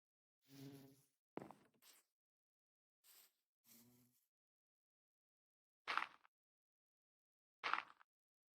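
Several short buzzing bursts from Minecraft bees, separated by silence: a cluster early on and two sharper buzzes later, faint and isolated.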